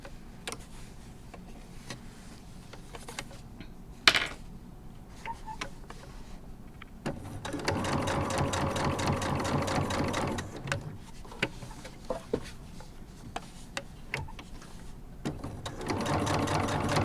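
A sewing machine stitches fabric leaves, with a few scattered clicks and ticks at first, then a steady, fairly loud whirring run of stitching for a few seconds, followed by more intermittent clicks and a second stretch of stitching at the end.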